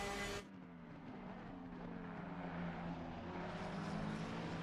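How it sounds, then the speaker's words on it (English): Race car engine in a sim racing game at the Zolder circuit, a loud sustained drone with shifting pitch as the car accelerates and changes gear, alone with no talk. "the engine note was so loud there"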